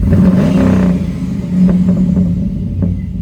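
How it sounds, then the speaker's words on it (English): A Pontiac G8 GT engine revs hard in a workshop, rising into a loud rumbling roar, easing off, then climbing again with a few blips before settling back near idle. "I'll rev her up."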